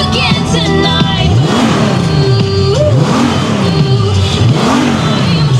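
A Honda Goldwing Tour DCT with a six-cylinder engine revs hard up close, rising and falling in three or four loud sweeping bursts over a steady idle rumble.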